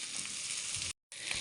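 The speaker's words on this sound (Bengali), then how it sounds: "এখন একটু তেলে এটাকে ভাজা ভাজা করে নেব।" Cleaned, cut beef tripe fries in hot oil with a loud, steady sizzle, broken by a short silent gap before the frying noise resumes.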